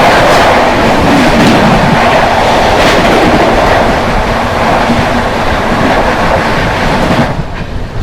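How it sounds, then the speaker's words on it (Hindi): The New Delhi–Ranchi Garib Rath Express rushes past close by as a loud, steady roar of wheels and rattling coaches that continues throughout and then drops off sharply as the train clears. "सामने से आ रही है दोस्तों न्यू दिल्ली रांची गरीब रथ एक्सप्रेस"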